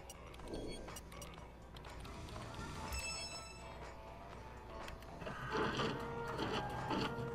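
A 3D printer whirs and clicks inside the video game Watch Dogs 2, a steady mechanical hum with ticking motor movements, busier toward the end, with a few faint tones over it.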